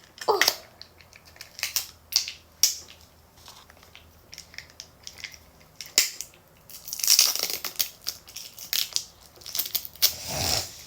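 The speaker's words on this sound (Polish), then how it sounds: "To bierzemy nożyczki i wbijamy do niego." Sharp snips and crinkly plastic crunching as scissors cut into slime packaging film, in irregular bursts with a louder crackling stretch partway through; no talking.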